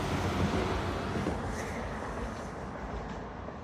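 A passing train makes a broad, loud rushing rumble that stays steady and then slowly fades, heard alone without any voices.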